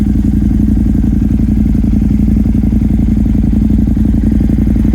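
A KTM 950 Supermoto LC8 motorcycle with a loud aftermarket exhaust idles close by, a deep, steady, throbbing rumble that stays constant throughout.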